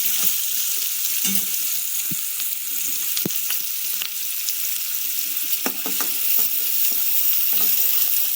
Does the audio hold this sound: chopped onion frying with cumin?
yes